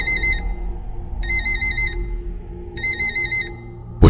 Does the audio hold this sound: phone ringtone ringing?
yes